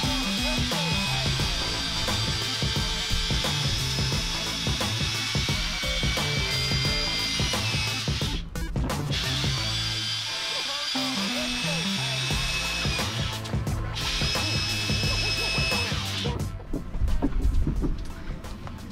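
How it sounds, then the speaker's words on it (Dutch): A power drill runs almost continuously in bursts over a busy, noisy background, pre-drilling holes for a DIY IBC hot tub solar heater, with brief pauses between holes; a voice is heard at times. "Oké, ik ga ze voorboren."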